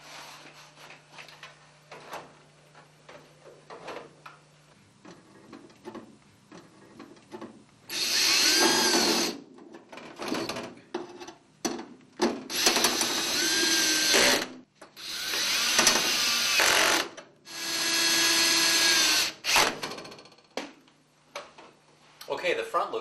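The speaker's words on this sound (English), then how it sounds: "at the holes provided in the air cleaner I go ahead and use my sheet metal screws and screw it in" A power driver runs sheet metal screws into an air cleaner in several loud whirring bursts of a second or two each, separated by quieter handling clatter and a voice.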